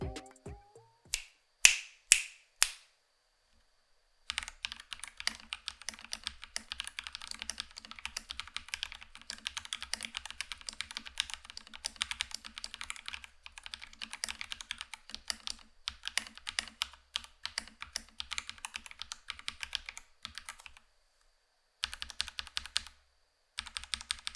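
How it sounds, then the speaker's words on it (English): Typing on a Marvo KG972W gasket-mounted budget mechanical keyboard: a few isolated key presses, then a long run of rapid, even clacks and thocks up close, pausing briefly near the end before resuming, with no voices. "here's a little sound test so you can judge it for yourself."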